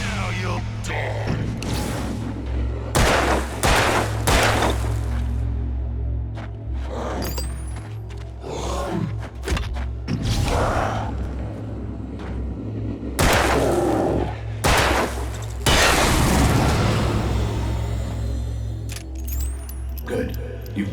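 Gunfire in the Alan Wake video game: a series of sharp bursts and booms scattered over a low droning soundtrack, with in-game speech between the shots.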